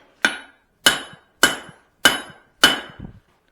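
Five evenly spaced, loud, ringing hammer blows land on hot steel against an anvil while a Swedish-style cross peen is forged, each strike sharp and metallic with a short decay, close and alone.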